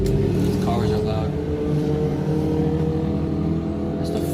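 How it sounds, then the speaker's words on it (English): A loud car roars past close by with a sustained engine drone that swells and fades, while people talk over the noise. "These cars are loud."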